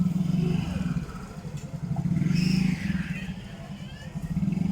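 A Yamaha Mio J motorcycle engine is restarted during an idle speed control reset and scanner check, settling into a steady low idle that rises and dips slightly, close and moderately loud.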